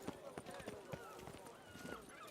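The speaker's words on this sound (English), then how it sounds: "Ебанутая лошадь" Horse hooves in a video game clip-clop at a quick, uneven gallop, a run of crisp, rather faint strikes repeating for a couple of seconds.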